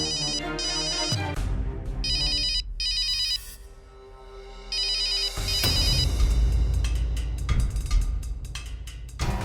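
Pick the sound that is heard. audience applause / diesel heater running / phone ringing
phone ringing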